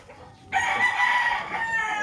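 A young rooster, about six months old, crows loudly and close by, a single sustained harsh call that starts abruptly and holds for about a second and a half.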